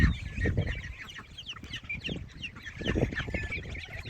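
Polish chicken chicks on a homestead peeping and clucking in scattered bursts, close and moderately loud, with other fowl nearby.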